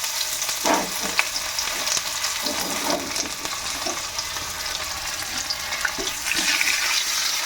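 Onion and spices (panch phoron, bay leaves, turmeric) frying in reused oil in a pan, a loud continuous hiss and sizzle with faint stirring knocks underneath.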